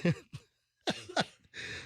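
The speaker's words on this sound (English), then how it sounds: "Did you get whooping cough on this cruise?" A few hoarse coughs and throat-clearing bursts, close up, with short pauses between them and a rougher, breathy final hack.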